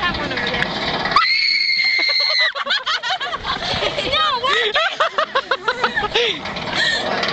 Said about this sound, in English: I'm gonna blood curdle scream.